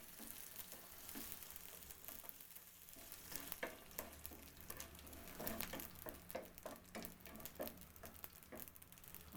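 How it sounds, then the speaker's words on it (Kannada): Crushed garlic sizzles and spits in hot oil in a pan for a drumstick leaves stir fry, a steady close frying crackle with scattered sharper pops throughout and no talking. "ಇದಕ್ಕೆ ಒಂದು ಬೆಳ್ಳುಳ್ಳಿ ಜಜ್ಜಿ ಹಾಕ್ತಾ ಇದ್ದೀನಿ."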